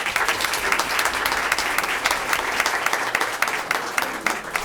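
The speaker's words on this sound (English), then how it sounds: "Let's give him a round of applause." An audience at a school board meeting applauds a wrestling coach, steady, dense clapping that holds at an even level throughout, fairly close, with no talk over it.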